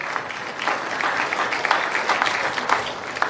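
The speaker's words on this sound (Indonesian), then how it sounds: "Oke, tepuk tangan." A roomful of people clapping steadily, a dense patter of applause lasting a few seconds.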